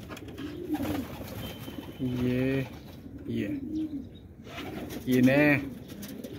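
Pigeons in Quetta, Pakistan coo in low, throaty bursts between stretches of someone talking nearby; a few soft calls stand out clearly.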